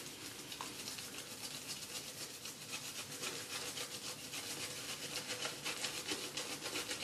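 Brisk, rhythmic scrubbing of a shaving brush swirling over a soap puck, a close, steady bristly rubbing sound with no talking.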